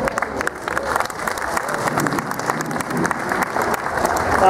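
A crowd at the Ekka show applauds a master horseman's performance, a loud, continuous roar of clapping that swells slightly toward the end, with faint voices mixed underneath.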